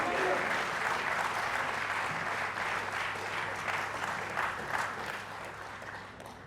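A hall audience at the launch ceremony for the illustrated book 'Sachitra Ramkatha' breaks into sustained, dense applause that fades slightly toward the end.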